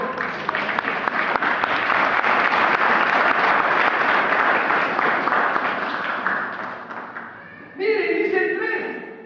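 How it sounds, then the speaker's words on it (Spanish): A church congregation claps and cheers in sustained, dense applause for about eight seconds, then it fades as a louder burst of music or voices cuts in near the end. "Un aplauso al Señor."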